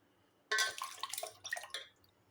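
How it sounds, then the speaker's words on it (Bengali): About 500 grams of small loach fish rubbed with lemon and washed in water, a sudden splash followed by uneven sloshing and dripping that tapers off, close and soft. "এবার লেবু দিয়ে ভালো করে লোটে মাছগুলো ধুয়ে নেব।"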